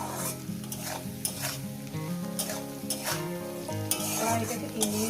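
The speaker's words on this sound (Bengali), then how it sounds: "এখন আমি এভাবে একদম লোতে দিয়ে একটু ভেজে নেব" A mash of amla (Indian gooseberry) fries on low heat while it is stirred, giving a continuous gentle sizzle with rhythmic scraping and spoon clicks, close up and with no talking.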